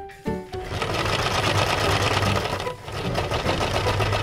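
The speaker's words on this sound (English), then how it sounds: "Let's place the pink Play-Doh and the number one mold inside the washing machine." A toy washing machine runs with pink Play-Doh and a number-one mold inside, giving a steady, loud mechanical whir and rattle after a click at startup, with a brief dip before it continues.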